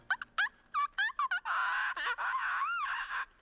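Seagull-like squawking calls from a She-Ra cartoon episode, a burst of short choppy cries followed by longer wavering, warbling screeches, loud and close with no talk over them.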